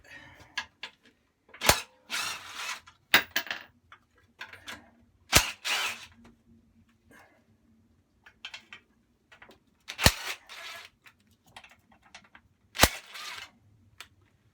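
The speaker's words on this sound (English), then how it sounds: "Taking this off, it's got 4 10mm bolts." Four 10 mm bolts come off the cover of a Rover commercial mower with a Briggs and Stratton engine: sharp isolated clicks and ratcheting spaced irregularly, with quiet fumbling between them.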